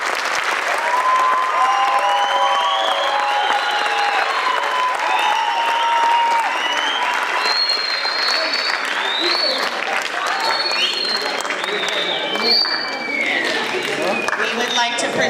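A debate audience claps for the participants in sustained, dense applause lasting throughout, with voices and cheers mixed into the crowd.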